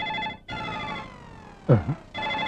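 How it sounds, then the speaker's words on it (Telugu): A phone ringtone plays a sustained electronic tone, breaking off briefly before resuming, with a short vocal sound in the middle. "ఫోన్ రింగ్ అవుతుంది అక్కడ."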